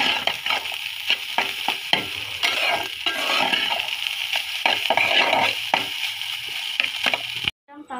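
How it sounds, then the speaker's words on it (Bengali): Rice fries with egg, a little salt and magic masala in a pan, sizzling steadily under frequent quick scraping and stirring strokes, close up and fairly loud, ending in a short cut. "তো যে ভাত দিয়ে ভেজে দিচ্ছে, আর হালকা একটু লবণও দিচ্ছে"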